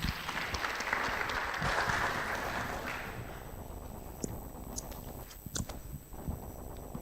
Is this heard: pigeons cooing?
no